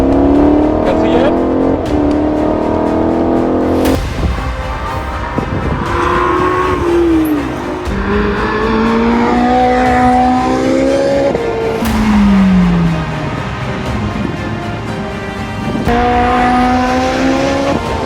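A race car on a track braking hard and accelerating, engine pitch sweeping up and down through gear changes, loud and continuous, with someone talking over it.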